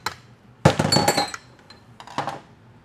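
Shifter shaft seal pried out of a transmission with metal tools: a few sharp metallic clinks and scrapes in quick bursts, close and fairly loud, with quiet pauses between.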